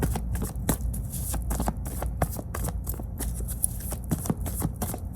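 Playing cards are shuffled repeatedly during a card reading, a fast crisp riffling with sharp snapping bursts that continue steadily and up close throughout.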